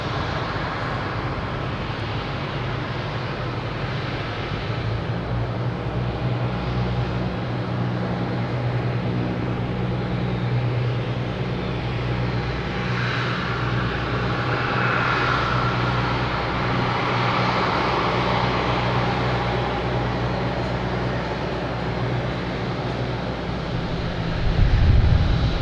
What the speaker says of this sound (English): I got Southwest coming in here, making a racket.